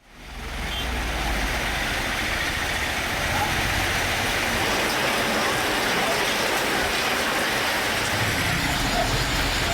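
Sudden heavy rain in Krishnagiri district, Tamil Nadu: a loud, steady broadband downpour rushing without pause. No distinct thunder claps stand out.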